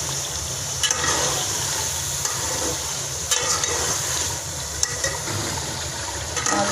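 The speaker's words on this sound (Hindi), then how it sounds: "अब हम इसे सिर्फ 2 मिनट के लिए भूनेंगे।" Chilies, coriander, cumin and tamarind frying in a pan for chicken pulao give a steady, close sizzle and hiss that runs throughout with small crackles and no talk.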